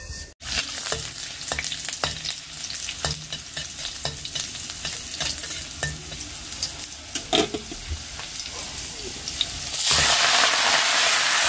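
Leafy greens cook in oil in a pan, with repeated scrapes and clatters of stirring over a gentle sizzle that swells into a loud, steady hiss near the end.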